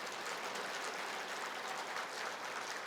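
A church congregation applauds during a Sunday sermon, a steady, even wash of many hands clapping together, faint and distant-sounding, continuous for the whole stretch with no voices over it.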